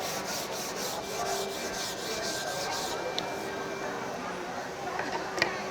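Rhythmic back-and-forth strokes of 150 grit sandpaper across a wooden serving tray board, steady scratchy rubbing up close that stops partway, followed by a few small knocks and light handling sounds.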